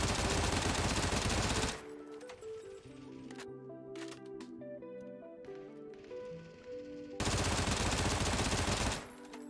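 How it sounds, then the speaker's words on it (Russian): FAMAS rifle with a compensator firing in a video game, loud dense bursts of gunfire at the start and again near the end, with quieter rhythmic clicking and tonal game sounds in between. "Режимы стрельбы у оружия одиночные, бёрст и полностью автоматический."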